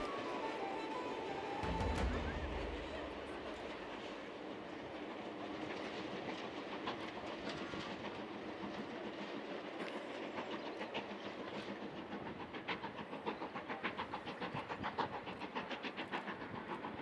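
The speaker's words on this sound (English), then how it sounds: "I hear a whistle in the distance, and then through the grass, the Jacobite steam train appears. It crosses the viaduct, with steam trailing behind it" Jacobite steam train crossing a viaduct, heard from a distance as a steady rolling rumble with rhythmic wheel clatter that builds slightly toward the end, with no voices.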